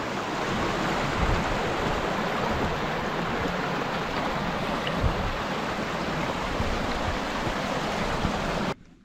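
Steady rushing of a stream right beside a hiking path near Grey Mares Tail and Loch Skeen, a continuous broadband wash of flowing water, close and loud, with no voices, cutting off abruptly at the end.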